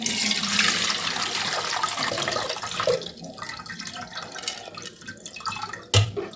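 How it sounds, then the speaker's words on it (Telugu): Washing water from rinsed lentils is poured into a vessel in a steady close stream that tapers to drips, ending with a short splash. "కడిగిన తర్వాత ఆ వాటర్నే గిన్నెలోకి వంచేయాలి"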